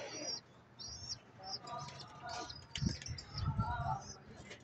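Pigeons cooing with scattered chirps from other birds, soft low coos clustered in the second half and thin calls above, moderately distant and faint with some background voices.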